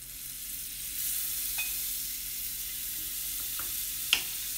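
Butter sizzling in a hot pan for quesadillas, a soft steady hiss with a few light clicks and one sharper tap near the end.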